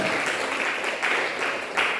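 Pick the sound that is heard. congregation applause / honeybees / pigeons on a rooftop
congregation applause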